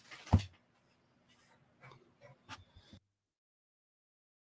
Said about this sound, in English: My dog hears things and then barks.